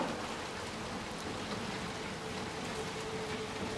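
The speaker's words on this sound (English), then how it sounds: "trying to get out of the rain" Rain falls in the video game Little Nightmares 2 as a steady, even hiss of dense drops throughout, fairly quiet and unbroken, with no voices.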